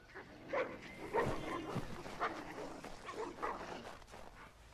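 A dog in the video game Assassin's Creed 3 barks and yips several times in short bursts over a steady background, moderately near, with no talking.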